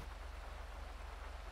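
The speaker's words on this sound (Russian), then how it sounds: "я дождик сделала нормально" Steady rain falling during a night scene in GTA 5 Online, a constant soft hiss of downpour with no talk, fairly quiet and even throughout.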